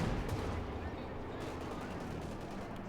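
Rapid gunfire from a Company of Heroes 2 battle, with shots aimed at a field gun, forms a dense, steady, loud barrage of overlapping reports that continues for the whole stretch without pause.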